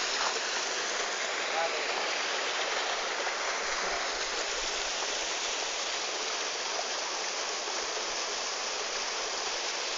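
The waterfall at Turová roars as a steady, dense rush of falling water, even and unbroken for the full duration.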